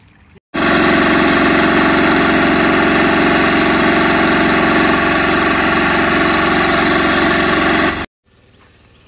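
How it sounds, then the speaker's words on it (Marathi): A farm tractor engine cuts in abruptly and runs at a steady, loud idle for about seven and a half seconds, a dense, even drone with no talk, then stops sharply into quiet. "तो ट्रॅक्टर सुरू करतो ते बघा"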